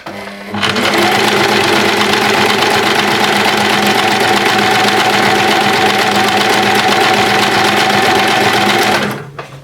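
An Empisal sewing machine runs steadily on a zigzag stitch for about nine seconds, a loud continuous mechanical whir with a rapid needle rhythm that starts and stops abruptly, with no talking.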